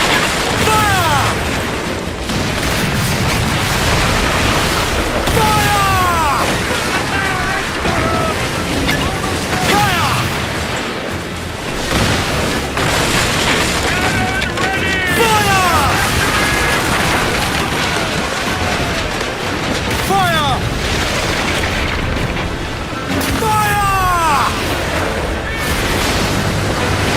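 Ship cannons on a sailing warship in Assassin's Creed Black Flag boom repeatedly amid a loud, dense battle din, with several heavy blasts spread across the clip and voices shouting over the chaos.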